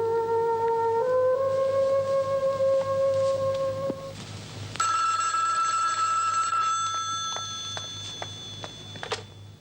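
A telephone rings at night, a bright electronic tone stepping up in pitch, then a second burst of layered ringing with sharp clicks, loud and close over a low steady hum.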